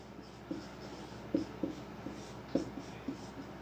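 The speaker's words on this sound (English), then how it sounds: "So, I am writing here" Chalk or marker strokes on a board during a math lecture on integrals: a few short, soft taps and scratches, spaced irregularly over a quiet room hum, faint and without speech.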